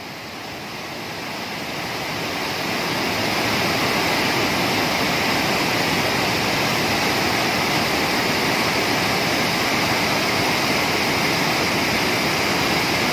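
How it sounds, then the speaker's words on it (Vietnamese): A stream at Pù Tong waterfall in Mường Lát, swollen by a storm, gives a loud, steady, continuous roar of rushing water that builds over the first few seconds and then holds at full strength. "Con suối ở thác nước Pù Tong nó to như thế này các bác ơi"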